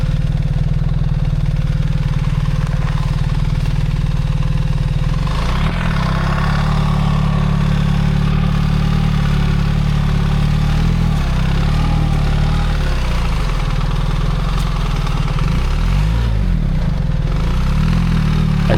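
A motorcycle engine chugs low and steady as the rider crawls the bike through boggy ground with the rear wheel spinning, loud and close, with rising throttle surges and clattering around the middle and end.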